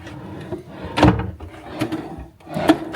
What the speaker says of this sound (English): And then I think these are just drawers.